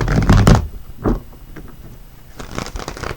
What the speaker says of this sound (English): let's go ahead and shuffle up the tarot cards